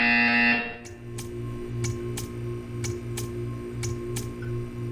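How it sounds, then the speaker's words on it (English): A loud electronic buzzer in the Portal video game blares briefly, then gives way to a steady hum broken by a regular series of sharp ticking clicks. "When you hear the buzzer, stare at the art."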